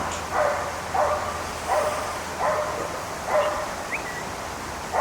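Dogs bark in a hillside forest, about six evenly spaced woofs at a moderate distance over a steady breezy outdoor hiss.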